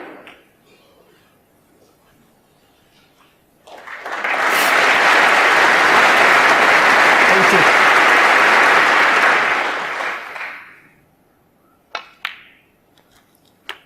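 Snooker crowd at Alexandra Palace during the 2017 Masters semi-final bursts into sustained loud applause lasting several seconds, rising quickly and fading out, followed by a few isolated sharp claps.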